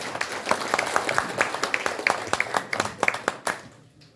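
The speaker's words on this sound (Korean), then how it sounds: "큰 박수 부탁드립니다" Applause from an audience at a Korean ceremony as a district head is introduced: a modest group clapping in distinct, uneven claps that thin out and stop near the end.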